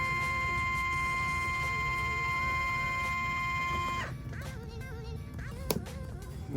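A Nike Huarache self-lacing shoe's motor whirs with a steady high mechanical whine for about four seconds, then cuts off, leaving quieter handling noises and a brief click.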